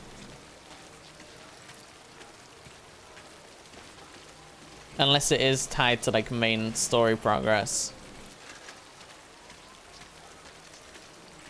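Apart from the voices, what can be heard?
rain falling in the video game Death Stranding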